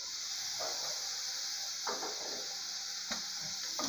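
Chopped tomato sautéing in a pan, a steady close sizzle with a few short stirring scrapes and clinks of the utensil against the pan.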